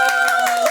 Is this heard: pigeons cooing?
no